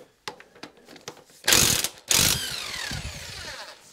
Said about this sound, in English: I will use my impact driver to loosen it up, as I have my bike on the stand